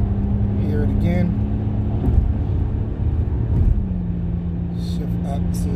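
Car fitted with a Jemini Y-pipe and Evil Energy exhaust, droning loudly and steadily while cruising on the highway, the tone dropping and shifting through downshifts to fifth and fourth gear.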